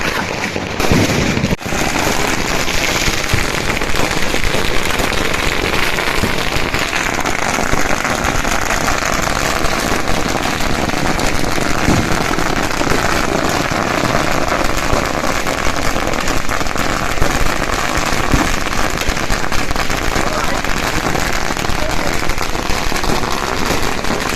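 A long, relentless chain of firecrackers bursting at the Rameshwar palkhi festival in Malvan, loud rapid crackling pops running without pause, with a few sharper bangs standing out.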